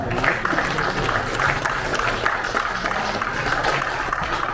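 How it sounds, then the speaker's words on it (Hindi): Applause from the audience at an Atal Foundation event in Delhi marking Atal ji's birth anniversary, a steady wash of many hands clapping with a murmur of crowd beneath. "बहुत जोरदार तालियों के साथ"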